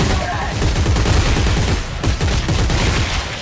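Rapid gunfire in Dead Space 3, a steady stream of loud close shots in quick succession with continuous rattling bursts throughout, dense and unbroken.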